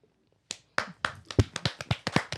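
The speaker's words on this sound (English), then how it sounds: "Golf clap. Golf clap. Golf clap." Soft golf clap from a few people in a podcast studio: quiet, sparse individual claps that start hesitantly and then quicken into a light, close, irregular patter, with no talk over them.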